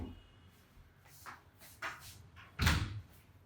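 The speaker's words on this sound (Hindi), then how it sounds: "एक मिनट दरवाजा बंद।" A classroom door is pushed shut, giving a few soft shuffles and creaks followed by one louder thump, all fairly faint and close.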